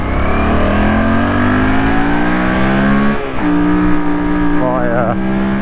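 A motorcycle engine is held at high revs on a residential street, a loud, close, buzzing note that climbs steadily, dips sharply midway, then rises and wavers again.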